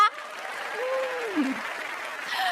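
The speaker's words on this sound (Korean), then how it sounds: "응원의 박수 부탁드리겠습니다" Clapping from a lecture audience cheering on a presenter, heard as a soft, even wash of applause with a faint, sliding vocal tone running through it.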